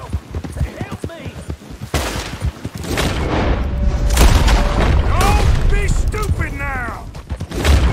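Several booming gunshots in Red Dead Redemption 2 ring out amid horse hoofbeats and clattering game sounds, with someone talking over the action.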